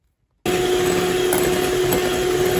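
An electric hand mixer whirs steadily through pancake batter made with vanilla sugar and a pinch of salt, starting abruptly after a brief silence and running loud and continuous without pause.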